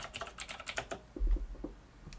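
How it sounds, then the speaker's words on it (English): Computer keyboard keys click and clack in a quick irregular burst, crisp taps close to the mic that slow to a few scattered presses with a low thump. "take us out with your keyboard"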